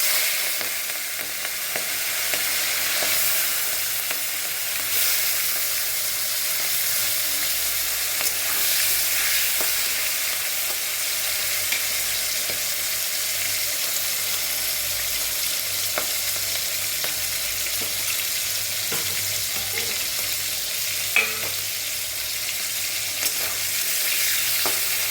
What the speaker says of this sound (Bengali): ততক্ষণে তেলটাও আমার গরম হয়ে গেছে। মাছগুলো আমি হালকা